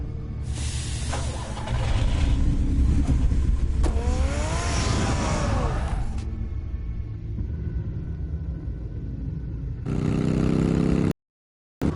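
Car engine driving in the Batman Telltale video game, a loud rumbling roar that swells as it accelerates, then fades to a low hum before another burst and a sudden cut.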